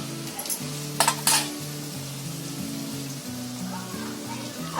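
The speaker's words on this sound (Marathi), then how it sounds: "अशी कढई असेल ना असं पॅन वगैरे तर त्याच्यातच तळून चांगले निघतात" Aloo bonda frying in a nonstick pan for a fasting chaat makes a steady close sizzle, with a couple of sharp utensil clatters early on and a low humming tone underneath.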